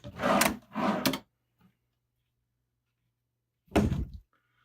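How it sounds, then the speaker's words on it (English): Wooden drawers on glides, felt underneath, slide open and shut in a quiet room: two quick rolling thunks close together, a tiny tap, then a pause before one more solid close. "All the drawers open up fine. These are like on glides."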